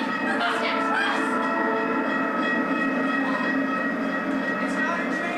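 A train sound effect plays during a high school stage play: a loud, steady rumble and clatter of rolling railcars with a high whistling tone, continuous throughout with no one speaking.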